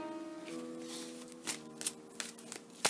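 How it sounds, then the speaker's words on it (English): Tarot cards shuffled by hand at close range, a soft riffling and fluttering with several sharp flicks and slaps toward the end, faint and unaccompanied by talk. "now I'm going to start shuffling my cards"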